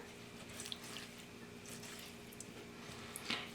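Red clover sprouts are swished gently by hand in water for rinsing, soft intermittent sloshes and small splashes, quiet and close, with a sharper splash near the end.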